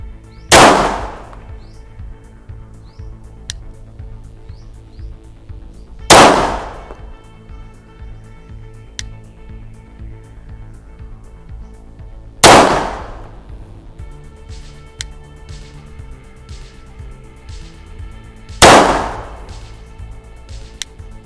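Four sharp, loud Sig P229 pistol shots fired slowly at a target, each a hard crack with a decaying ring, spaced roughly six seconds apart with quiet between.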